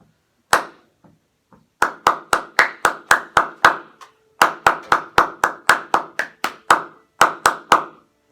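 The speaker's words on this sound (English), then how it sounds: "We're just gonna start by clapping the rhythm." Hands clap out the rhythm of an orchestral cello excerpt from a Danzón, a single near, loud clap, then a steady run of sharp, evenly spaced claps in phrases with short pauses, no talking.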